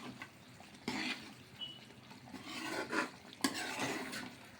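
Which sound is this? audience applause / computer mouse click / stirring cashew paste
stirring cashew paste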